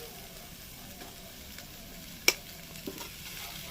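Soy rice stirred in a pan over low heat, a soft steady sizzle with gentle scraping and one sharp clink of utensil on pan, quiet and close, without speech.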